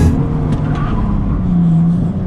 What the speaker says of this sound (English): that car pulls so hard